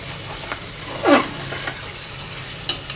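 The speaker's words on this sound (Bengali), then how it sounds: "মাংসগুলোকে আমি ভালো করে গুনা গুনা করে নিব" Chicken pieces stirred in a pot for morog polao, with a soft steady sizzle underneath and a loud scraping stir near the start, followed by a few faint clinks.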